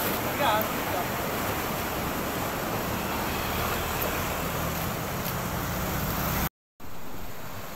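Steady broadband rush of river water flowing near an irrigation channel in Cabulay, Santiago City, continuous and fairly loud throughout, briefly cut out near the end before resuming.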